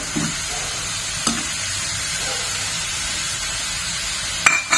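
Steady frying sizzle of potatoes added to fried peas in a pan fills the whole stretch, with a couple of faint clinks of a utensil against the pan and no voices.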